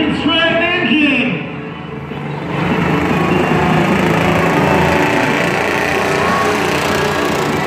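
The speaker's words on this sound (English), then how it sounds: "Powered by a 60cc Franklin Stratton engine." A radio-controlled monster truck powered by a 60cc Franklin Stratton engine runs at a night event, its buzzing engine loud and steady beneath an announcer's excited talk.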